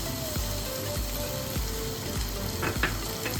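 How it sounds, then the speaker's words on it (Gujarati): Frying browned onions in a pan as tomato puree goes in for Punjabi chole: a steady, dense sizzle throughout, close and fairly loud, with a few faint clicks of a spoon near the end and no voices. "આપણી ડુંગળી જો સરસ પતરાઈ ગઈ છે બ્રાઉન આછી થઈ ગઈ છે તો આપણે તેમાં ટમેટાની પ્યુરી છે ને એ એડ કરશું"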